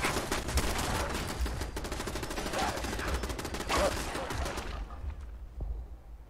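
Defensive turrets in Fallout 76 fire rapid dense bursts of gunfire for about five seconds, loud and continuous, before cutting off into near silence.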